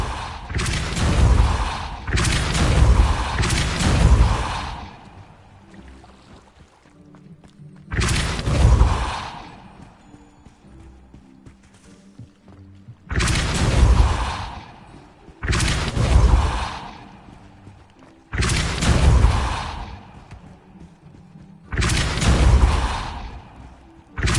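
Repeated Depulso spell casts in Hogwarts Legacy, each a loud booming whoosh with a heavy low thump. Six or so separate bursts come a few seconds apart, with quieter game ambience between them.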